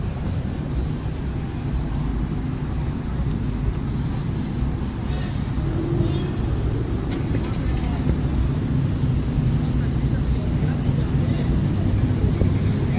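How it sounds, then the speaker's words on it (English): Busy road traffic on a downtown Grand Rapids, Michigan street near a road closure before Fourth of July fireworks, a continuous low rumble of engines and passing vehicles close by, with talk over it. "traffic is already getting quite bad down here, especially with the road closed up ahead"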